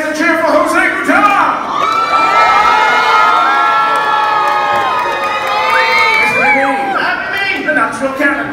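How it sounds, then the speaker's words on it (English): A lively crowd, including children, cheers and whoops loudly for a cannon master at a pirate-themed dinner show, with shouted voices rising and falling together over several seconds. "raise a cheer for Jose Gutierrez"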